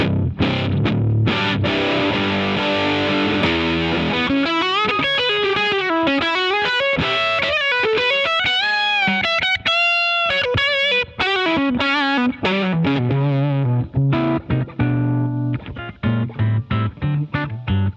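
A heavily distorted electric guitar plays a thick, loose low-end riff, loud and continuous with sustained chords and shifting notes.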